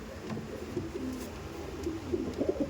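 A male Giribaz pigeon coos in low, repeated throaty rolls among other birds, a steady murmur of cooing with a few louder bursts near the end.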